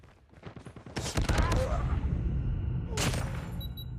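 In a video game firefight, a rapid burst of gunshots is followed by a heavier crack and a second sharp shot, loud and close, with someone talking excitedly over it.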